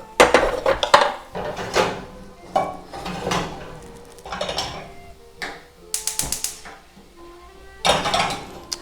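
Food seasoned with Hawaiian salt is stirred in a pan for an elvish-style full breakfast with bacon, giving a series of irregular scraping and clattering knocks of utensil against metal, close and fairly loud, with short pauses between bursts.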